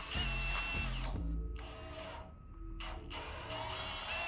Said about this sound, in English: here I'm just drilling the new holes where the two pieces connect